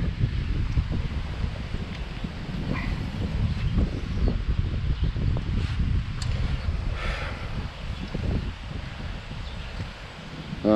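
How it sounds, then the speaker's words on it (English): Strong gusty wind buffets the microphone outdoors with a constant low roar and rustling, no talking. "it is windy as all get out"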